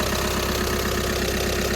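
VW Caddy van engine idling just after starting, a steady loud mechanical rumble with a regular knocking pulse and no talk.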